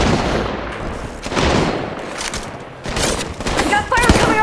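Rapid gunfire in Apex Legends Mobile, several bursts of automatic shots and heavier booms coming in close waves with short gaps between them, with game voices over the firing.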